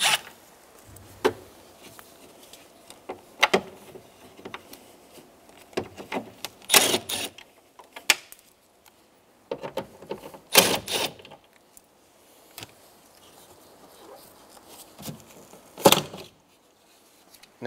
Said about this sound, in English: using a 10 millimeter socket, we're going to go around and remove the three bolts for the speaker